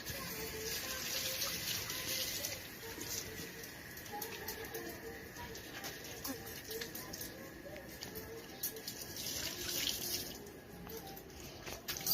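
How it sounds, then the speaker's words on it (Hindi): Running tap water splashes steadily while hands are washed at a home sink, a continuous near hiss with faint spattering throughout. "अब जो है ना हाथ भी धो लेंगे।"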